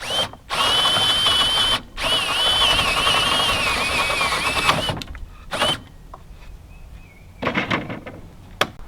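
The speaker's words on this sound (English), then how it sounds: "Drill through from both sides" A power drill bores through wood to make a bait hive, running in two long, loud whirring bursts with a steady pitch that wavers slightly under load, then short spurts and a few sharp clicks in the quieter stretch after.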